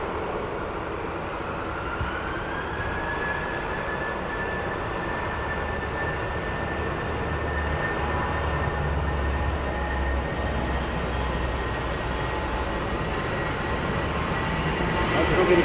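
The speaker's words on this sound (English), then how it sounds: "We have an aircraft inbound." A steady jet engine roar and whine from an aircraft inbound at Heathrow Airport, sustained and gradually swelling over a low rumble, with a voice talking at times.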